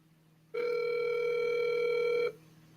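A single steady ringback tone on an outgoing phone call, starting abruptly, holding for just under two seconds, then stopping, loud and clear over a faint low hum.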